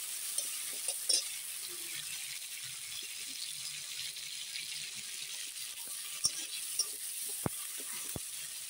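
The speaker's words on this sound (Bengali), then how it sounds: "টমেটোটা এখন ভালো করে ভেজে নেব নরম করে" Tomatoes fry in a pan as a spoon stirs them for a cauliflower curry, a soft steady sizzle under occasional scrapes and light clinks of utensil against metal, with no talk.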